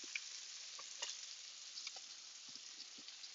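Petrale sole fillets fry in a pan with a soft, steady sizzle and faint crackling pops scattered throughout, close and fairly quiet, with no talking.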